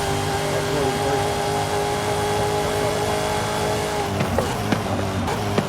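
A 1,000+ horsepower Mazda Miata sleeper drag car in Forza Horizon 5 launching at full throttle from a held first-gear start. A loud, sustained engine whine with steady tonal overtones is followed by sharp clicks and bursts near the end.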